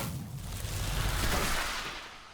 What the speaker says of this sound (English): That's a weirdly delayed explosion sound